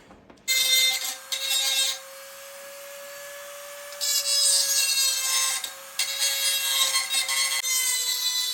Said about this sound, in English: let's get the Dremel tool, sand her down just a little bit here.